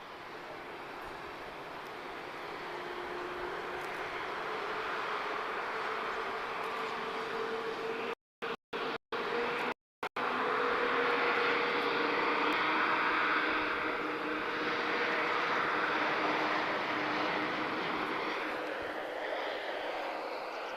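A Royal Air Maroc Embraer E190 from Casablanca landing at Lisbon Airport, a steady broadband roar of jet engines and rushing air that holds for the whole stretch, with a brief cut partway through and a low tonal whine underneath.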